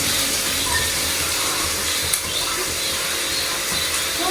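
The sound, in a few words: onion frying in hot coconut oil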